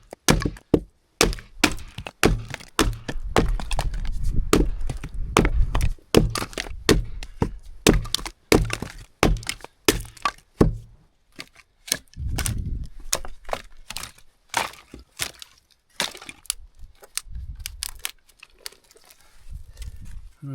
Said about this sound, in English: I'm gonna split a bunch of those rounds.